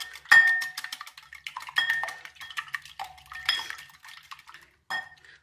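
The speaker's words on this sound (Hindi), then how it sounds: "और इसको हम अच्छे से फेंट लेते हैं।" Eggs are whisked in a bowl, giving quick bursts of bright metallic clinks and taps in an uneven rhythm, close and clear, with short pauses and no talking.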